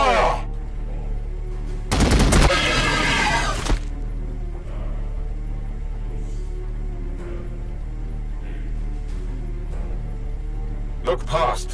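Gunfire bursts from the Warhammer 40000 Battlesector video game, one loud dense volley lasting about two seconds, with a shorter burst near the end, over steady battle ambience and occasional game voice lines.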